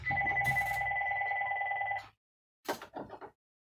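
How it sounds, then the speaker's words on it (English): A telephone rings with a steady two-tone electronic trill for about two seconds, then stops; after a short pause a single voice speaks quietly. "But why is the phone ringing?"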